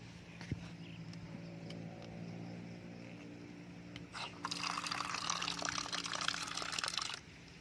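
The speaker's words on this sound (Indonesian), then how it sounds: "Dan selanjutnya kita tambahkan air lagi." Water poured into a sweetened condensed milk mixture, a steady splashing rush that starts partway through and runs for about three seconds, following a quieter stretch of background hum.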